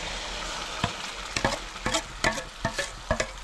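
A wet spice paste of roasted onion, coconut, roasted chana, ginger, garlic and coriander sizzles in hot oil in a pan for a crab curry, with repeated sharp stirring scrapes over a steady close frying hiss.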